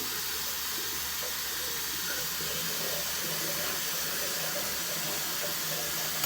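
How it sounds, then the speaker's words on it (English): A Gillette razor is rinsed under a running tap, with a steady, loud broadband gush of water throughout and no pauses. "I'm going to start by rinsing off the razor."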